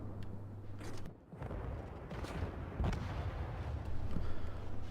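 Artillery fire in a naval video game about the Graf Spee, with heavy booming gunfire and rumbling blasts in a dense, continuous layer and a sharper burst around the middle.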